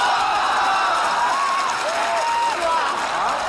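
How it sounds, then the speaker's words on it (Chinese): A studio audience at a comedy sketch claps and cheers, sending up a sustained wash of applause with crowd noise and whoops running underneath. "此地有雷鸣般的掌声。"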